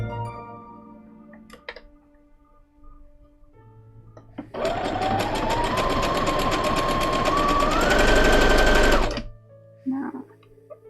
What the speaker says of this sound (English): So we're actually sewing the fabric.